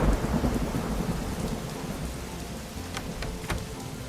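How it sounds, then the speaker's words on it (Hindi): A village thunderstorm with torrential rain and strong wind: a loud rumble of thunder opens over a constant heavy downpour, with sharper cracks near the end and no talking. "कुछ घंटों बाद गांव में तेज आंधी और मूसलाधार बारिश शुरू हो गई"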